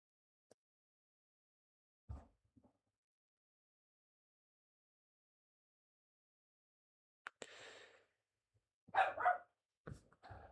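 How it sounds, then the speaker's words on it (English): A dog gives a few short, sharp barks and yips, sporadic and close by, in an otherwise quiet room. "Sorry about my dog."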